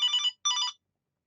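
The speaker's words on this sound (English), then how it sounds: "that was Steve calling me on the phone" Two short electronic telephone rings sound in quick succession, bright and clear, each lasting about a third of a second, followed by silence.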